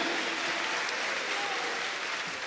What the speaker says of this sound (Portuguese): So let's give the God a round of applause and sit down.